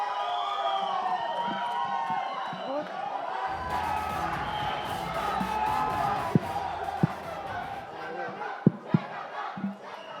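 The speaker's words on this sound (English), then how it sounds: "the loudest round of applause for Rohit Dhawan." Loud crowd cheering and applause at a Shehzada film trailer launch event, a continuous roar with shouts and whoops rising midway, sharp claps and bangs near the end.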